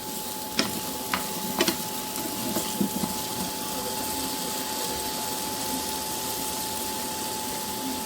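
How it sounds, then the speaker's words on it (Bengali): Potatoes frying in hot oil in a wok make a steady, even sizzle that runs throughout, with a few faint clinks early on and no voices. "এবার আমি আলুগুলো ভেজে নেব।"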